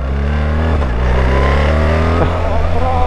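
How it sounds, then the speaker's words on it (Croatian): A BMW R1300GS Adventure motorcycle, a 2025 automatic model, accelerates loudly up close, its engine note climbing steadily and shifting pitch as it gathers speed. "Malo sam zgazio motor"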